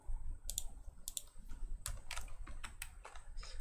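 Fingers typing Bangla text on a computer keyboard, a quiet, close run of irregular key clicks with short pauses between them and no talking.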